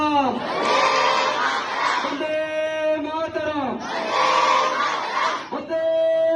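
Schoolchildren at a Republic Day flag raising at Voice Missionary School, Amtala, chanting a slogan in unison: two long, loud massed shouts, each followed by a sustained tonal note, sounding near and energetic.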